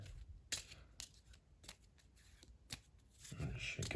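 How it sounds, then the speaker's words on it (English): A deck of cards for a World War I strategy board game is shuffled quietly and close by, in a series of soft riffling bursts that build toward the end. "Should give them a good shuffle."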